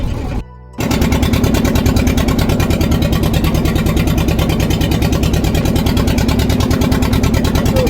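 A boat engine runs steadily during a crossing of the Ganges river at Uddharanpur, a loud, continuous mid-pitched chugging throbbing close by after a brief dip at the start.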